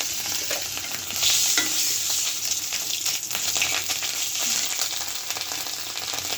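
Ginger tempering sizzles loudly in hot oil alongside cumin, a dense continuous crackle with scattered sharp spits and stirring scrapes, close up and without speech.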